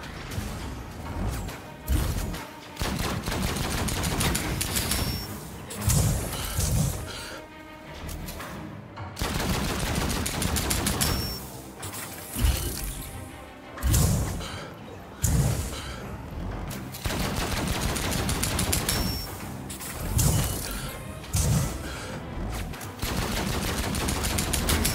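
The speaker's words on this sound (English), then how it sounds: "Terrible at shooting. Missed every shot there." Bursts of rapid gunfire in the game Outcast: A New Beginning, repeated volleys of shots in loud clusters separated by brief pauses, with crashing impacts mixed in and continuous game noise underneath.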